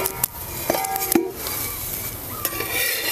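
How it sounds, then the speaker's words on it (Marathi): A spicy fasting-style paratha roasts in a pan and is flipped repeatedly, with a soft continuous sizzle and occasional sharp clinks of a utensil against the pan. "पलटी करून करून आहे ना आपल्याला भाजून घ्यायचं"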